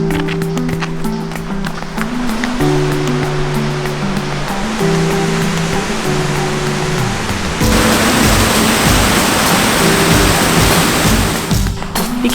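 Water rushes steadily beside a trail along Washington Highway 2, a continuous broadband hiss. A low tonal hum runs underneath for the first part, and the flow gets brighter and louder in the later seconds.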